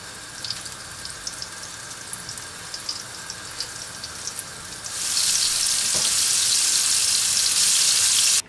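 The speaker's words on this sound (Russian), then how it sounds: "Тефтельки уже обжарились, очень красивые." Meatballs frying in a hot pan: a quiet, steady sizzle with faint crackles that swells abruptly into a loud, dense hiss of spitting oil, then cuts off.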